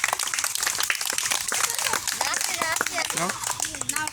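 Children in a classroom clap in loose, scattered bursts, close and overlapping, mixed with lively kids' voices and chatter throughout.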